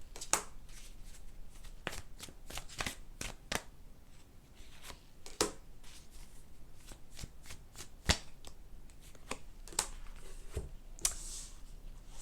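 Tarot guidance cards being shuffled in a quiet room, with a steady series of crisp riffling snaps and slaps repeating across the whole stretch and no talking.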